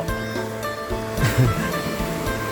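Steady rushing water at Mo Paeng waterfall in Pai, Thailand, a continuous broad roar that stays fairly even throughout with a brief swell partway through.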